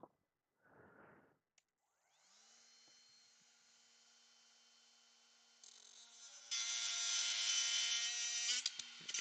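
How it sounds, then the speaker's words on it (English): A Dremel rotary tool cuts into a hard plastic PSA graded card holder, spinning up to a steady high whine close by and then growing into a louder, harsher grinding as it bites into the plastic, with no talking. "So we'll go Dremel tool."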